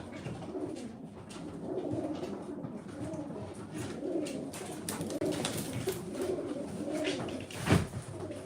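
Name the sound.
pigeons cooing, old pigeon breed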